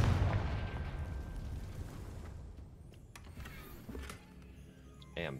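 Confringo fire spell blast in Hogwarts Legacy, a loud booming burst at the start that rumbles and fades over several seconds, followed by scattered smaller pops and crackles.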